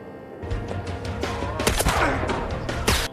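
A rapid burst of gunfire rings out in an action film fight scene, dense cracking shots and a few sharp louder reports over a low rumbling soundtrack, with no talk.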